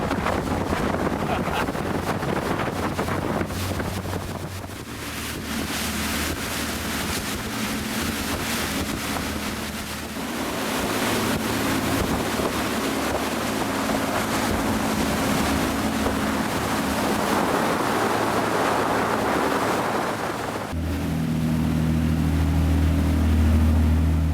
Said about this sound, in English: We broke the serene reflection with a throttle up to high cruise speed to check out the systems.